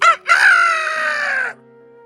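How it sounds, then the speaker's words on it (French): A rooster crows a single loud, close cock-a-doodle-doo, a short opening note followed by a long sustained call that cuts off cleanly, with no other sound around it. "le coq se mettait à faire cocorico"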